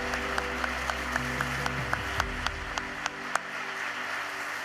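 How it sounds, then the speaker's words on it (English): An audience applauds artists and arts workers with steady, moderately loud clapping. A few sharper individual claps stand out above the sound of the crowd. "please stand up so we can give you a round of applause"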